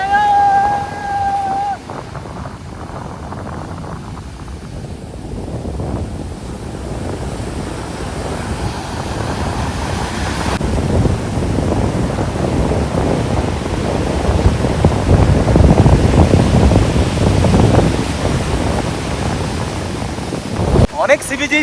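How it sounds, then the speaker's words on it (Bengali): Sea waves at Dublagadi sea beach crash and wash ashore in a continuous roar that swells louder over time, mixed with gusty wind buffeting the microphone. "এখানকার যেমন ঢেউ আর তেমন বিচটাও খুব সুন্দর"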